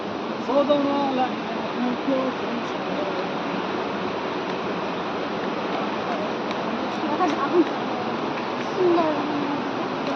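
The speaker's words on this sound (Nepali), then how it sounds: "झर्नाको आवाज आउँछ नदीको आवाज नि कत्रो आवाज" Waterfall and river water at Parsuram Kund roar as a steady, dense rush throughout, fairly loud and unbroken, with voices faintly audible over it at times.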